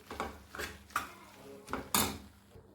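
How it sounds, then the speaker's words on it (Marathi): Chopped spinach being stirred into a cooking pot: a spoon scrapes and knocks against the pot in several close, uneven clinks and scrapes, fairly quiet. "पालक आता आपल्याला व्यवस्थित यामध्ये मिक्स करून घ्यायचा आहे।"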